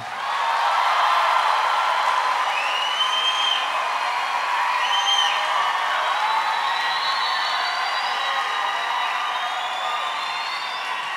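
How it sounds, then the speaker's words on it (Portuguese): A church congregation applauds a Catholic friar, Frei Gilson, with steady sustained clapping and a few whoops across the hall, fairly even in loudness throughout and with no speech. "Uma salva de palmas o Frei Gilson, que está conosco"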